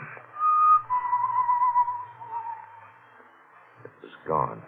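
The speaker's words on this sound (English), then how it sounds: "The whistling was somewhere in the building." A thin, wavering whistled tune echoes somewhere inside a building in a radio drama, holding for a few seconds with a radio-like tone, fading, then ending with a short sharp knock.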